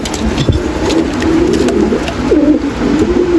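Pigeons cooing at close range, the setting a loft holding toy lahori, king and show pigeons, with overlapping throaty coos rolling on steadily throughout and no talk.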